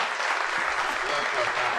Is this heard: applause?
yes